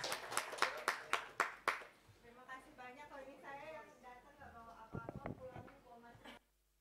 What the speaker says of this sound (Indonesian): Terima kasih tepuk tangan semuanya